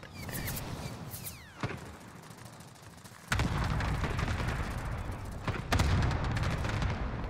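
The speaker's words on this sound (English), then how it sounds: "Shooting at me." Gunfire crackles in Call of Duty Warzone, with sharp reports and a sustained loud burst of shooting later on, mixed with game ambience and mechanical noise.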